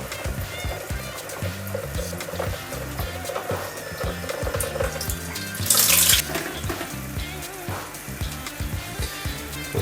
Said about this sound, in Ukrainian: можна вже відкрити ось цей штуцер і спустити рівень розчину до робочого